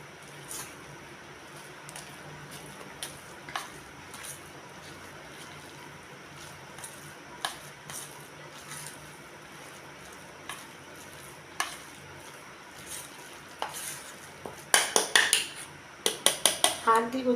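Soybean chunks being mixed in a bowl, with soft stirring and squishing, light clinks of a utensil against the dish, and a flurry of sharper scraping knocks toward the end.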